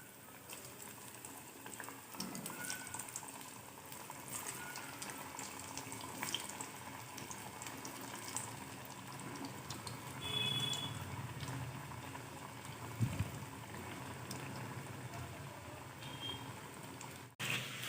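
Spinach vadi deep-frying in oil, a long steady bubbling hiss at moderate distance, fairly quiet, with a brief louder rustle near the end and no speech.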